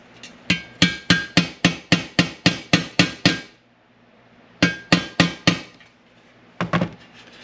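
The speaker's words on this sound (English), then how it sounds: "That's the reason why they give you all these hammers in here, because you don't know which one to use." Hammer tapping out a dent in the chrome of a 1965 Honda CB77 Superhawk: a rapid run of about eleven sharp, ringing metallic taps, a pause, then four more taps and two last ones, close and loud.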